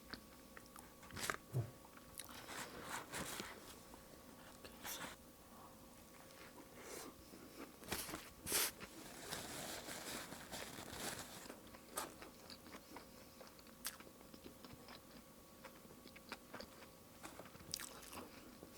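Crunchy, extra-golden McDonald's fries chewed up close during a mukbang alongside a Big Mac and mala fire noodles, with steady moist crunching and biting at a low level through quiet stretches.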